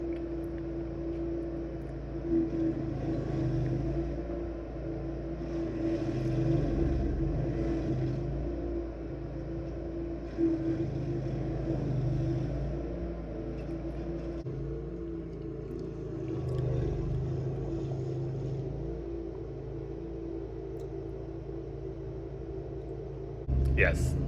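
A 27 horsepower stump grinder cuts through tree stumps, giving a steady low engine drone that swells and eases in waves throughout, moderately distant, with brief louder bursts as the cutter bites.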